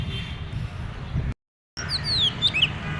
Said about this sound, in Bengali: এখানে কি সুন্দর পাখিও ডাকছে